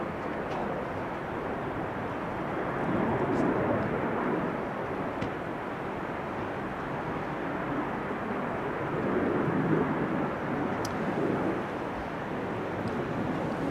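A business jet climbs away from runway 04 at Amsterdam Schiphol on a showery day as a steady, distant broadband roar that swells gently twice and holds without pause.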